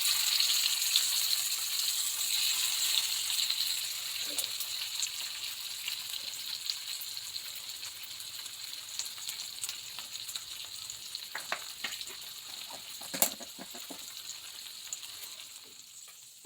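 Fish frying in a pan on a stove in a village home kitchen, giving a steady, fairly soft sizzle and hiss throughout, with a few sharper pops and spits toward the end.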